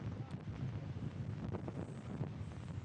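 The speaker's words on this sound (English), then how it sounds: "It's really gusting right now." Strong gusting wind buffets the microphone outdoors at a baseball game, a steady, loud low rumble that swells and dips with each gust, with no clear voices on top.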